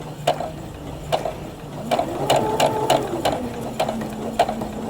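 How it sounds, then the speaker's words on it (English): A sewing machine stitches a mitered quilt border out to the corner: close, rhythmic mechanical clicks and ratcheting taps with a rising and falling motor whine, heard alone. "we're gonna stay on that line and stitch right out to that corner"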